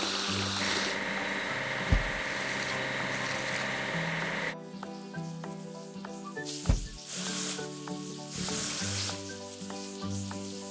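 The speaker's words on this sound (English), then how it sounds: "Let's wash the dining car." Cartoon washing of a dining car in a train station building game produces hissing spray and sizzling bursts, broken by soft thuds and a brief musical tone pattern in the background.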